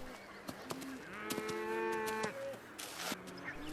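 Cattle on open farmland on Islay in the Hebrides low in a clear, drawn-out moo lasting a couple of seconds, close by, with no voices and some faint outdoor sounds around it.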